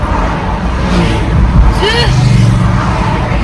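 Continuous street traffic rumbles outside, cars passing with a steady wash of engine noise and a brief higher whine, while a voice talks nearby.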